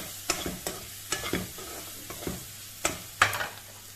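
Potatoes sauté with salt, turmeric and chili powder for a Goan potato bhaji, repeated scraping stirring strokes over a soft sizzle, close and fairly rhythmic.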